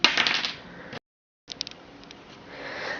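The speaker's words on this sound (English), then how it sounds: "And it makes a nice metallic sound." A fired piece of Aussie Premium Desert Sun stoneware clay is tapped, giving a cluster of bright, close metallic clinks with ringing decay, then a short silence and a few more lighter taps fading into a steady hiss.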